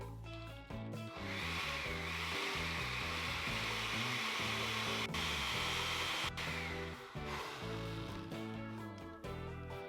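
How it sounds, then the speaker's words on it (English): A blender whirs steadily at high speed, pureeing chunks of watermelon for a fresh margarita, a loud continuous grinding roar with slight shifts in pitch as the contents liquefy, with no talking. "we're just going to blend it, and you want to do that until it's got a very liquid consistency."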